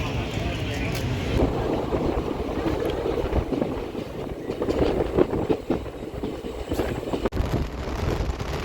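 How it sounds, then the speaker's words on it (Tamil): Meenakshi Express train rolling out of Manamadurai toward Madurai, a steady low rumble of wheels and carriage noise with wind buffeting, heard from on board with a faint voice now and then. "நம்ம ட்ரெயின் கிளம்பிட்டு இருக்கோம். மானாமதுரையிலேருந்து மதுரை நோக்கி"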